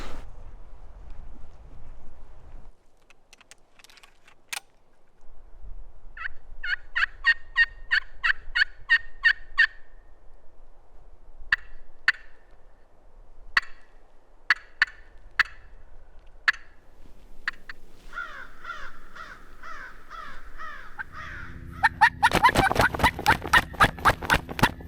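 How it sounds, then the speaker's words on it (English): A wild turkey gobbles repeatedly in wooded bottomland, the rattling calls coming in several separate bursts at a moderate distance over a quiet background, with louder crackling noise close by at the end. "Pretty sure there's a turkey gobbling up here"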